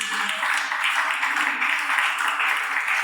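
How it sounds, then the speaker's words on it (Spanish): A church youth congregation applauds for Jesus, a steady wash of clapping that holds at moderate level throughout, heard alone without speech. "¿Hay alguien que lo pueda creer y le dé un aplauso al Señor Jesús?"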